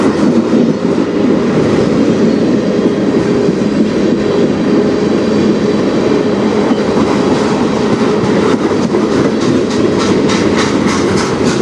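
A freight train rolls past up close, loud continuous rumble with rhythmic wheel clatter and faint metallic squeal, the clacking growing more distinct toward the end.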